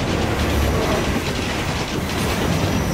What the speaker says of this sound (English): Do I have to really watch out for trains now?